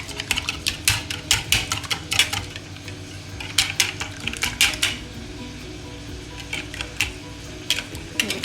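Cookie brownie batter being mixed in a bowl, a utensil clinking and scraping against the sides in quick irregular bursts with short pauses, close and fairly loud, no voices.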